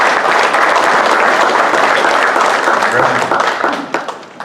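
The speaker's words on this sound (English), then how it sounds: "Coach Brent Haring, give a round of applause" Audience applause for Coach Brent Haring of the Nicholls Colonels, a dense, loud wash of clapping that holds steady for about four seconds before thinning and tapering off at the end.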